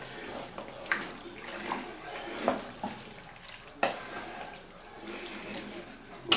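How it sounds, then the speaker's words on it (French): Broth is poured from a measuring jug into a pot of Mexican chili con carne, giving a soft, intermittent splashing trickle with a few sharper spills, fairly quiet and close. "Voilà, on va remettre un peu de bouillon."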